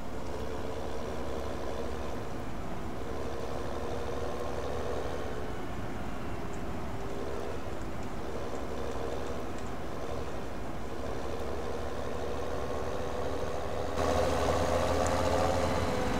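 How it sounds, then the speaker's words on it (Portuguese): A Fendt tractor engine in Farming Simulator 17 gives a steady, low, rumbling drone at a constant level, which swells slightly louder near the end. "O Fendt, ele é um trator, é um dos tratores mais rápidos do Farm Simulator 17."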